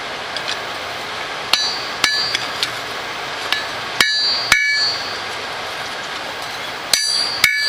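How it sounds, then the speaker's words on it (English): A cross peen hammer forges a hot knife blade on an anvil: sharp, ringing metallic strikes at irregular intervals, some in quick doubled pairs, with a faint background hiss between blows. "To narrow down the tang, I like to use the peen end of this cross peen hammer"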